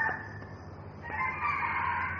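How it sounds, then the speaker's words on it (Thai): A rooster crows once, loud and drawn out, sounding fairly near against a steady low background hum with no talking. "เอ้าไก่มันบอกว่าหมดเวลาแล้ว1ชั่วโมงแล้วหยุด"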